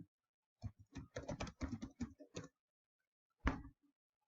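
Quick clusters of key taps on a computer keyboard as a short phrase is typed, close and clear in a quiet room, ending with a single firmer keystroke after a brief pause.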